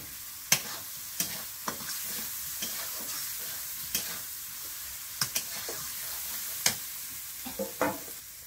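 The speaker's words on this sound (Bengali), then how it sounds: "আলুটা মশলার সঙ্গে কষিয়ে নিয়েছি।" Potatoes fry with spices in a pan, giving a soft continuous sizzle broken by scattered scraping taps of a utensil stirring them.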